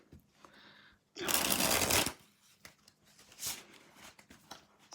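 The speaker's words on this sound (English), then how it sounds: "So let me know when I should stop shuffling, Stephanie." Tarot cards shuffled in a quiet room: a soft brief riffle, then one loud, dense burst of shuffling lasting about a second, followed by lighter taps and shuffles.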